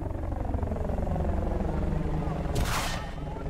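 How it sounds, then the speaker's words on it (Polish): An enemy helicopter in the video game Battlefield Bad Company 2 drones with a steady, loud, pulsing rotor chop, and a rushing whoosh sweeps past near the end. "Śmigłowiec. wroga!"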